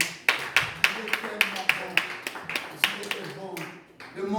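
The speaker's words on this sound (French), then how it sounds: "Donnez-lui des acclamations." Several sharp, evenly spaced claps ring out from a church congregation, about ten in a row, close and distinct with someone speaking underneath, then fading into talk.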